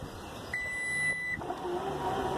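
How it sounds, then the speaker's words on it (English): A single electronic beep from a 2020 Lexus RX as its liftgate opens, a steady tone lasting under a second over a faint background hum. "And then it'll also beep."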